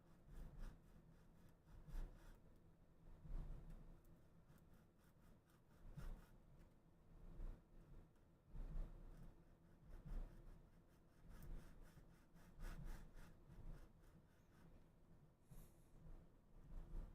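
Hand sanding a 3D printed plastic part, with repeated rhythmic scratchy rubbing strokes in bursts, close and fairly quiet, no talking.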